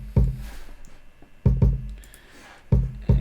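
Two layered kick drum samples playing together in a hip-hop beat, landing slightly off grid: four heavy, full thumps with a sharper click on top and short tails, loud and close with no talking.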